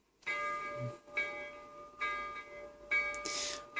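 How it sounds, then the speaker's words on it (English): A small electronic bell from a Massoth eMotion XLS sound module in a Bachmann Anne model locomotive rings four times in an even rhythm, each strike ringing out briefly, thin and tinny through a little speaker. "You've got number 3, which is a bell."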